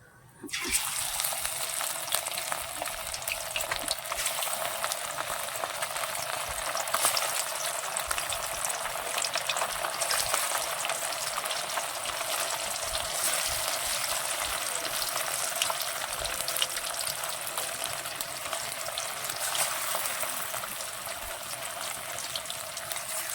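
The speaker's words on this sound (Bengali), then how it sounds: "একইভাবে কিন্তু আমি বাদ বাকি আমাদি মাছগুলো ফ্রাই করে নেব" Amudi fish fry in hot oil, a steady, dense bright hiss that starts abruptly and runs unbroken at an even level throughout, with no voices.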